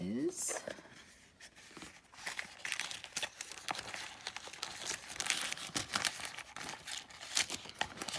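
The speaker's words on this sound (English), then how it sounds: "I'll tear up this tissue paper" Tissue paper is torn and crumpled while unboxing Hermes small leather goods, giving crisp crinkling and rustling bursts in uneven handfuls at close range, with a voice talking over parts of it.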